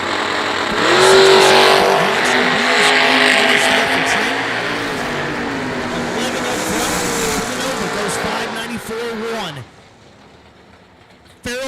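A drag racing dragster launches at the IHRA World Finals, its engine roaring loud and sustained for several seconds before cutting off abruptly. A track announcer talks over the noise.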